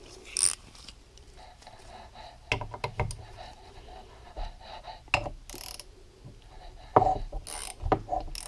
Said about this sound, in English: a ratchet like this one. I'm going to do it manually.